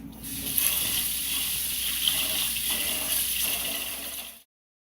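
Rice is washed by hand in water in a kitchen, with continuous soft swishing and sloshing of grains and water that stops abruptly at the end.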